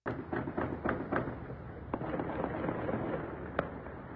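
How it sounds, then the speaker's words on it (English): Gunfire crackles in Tehran on played news footage, a quick burst of sharp pops followed by scattered single shots, muffled and somewhat distant. "Gunfire."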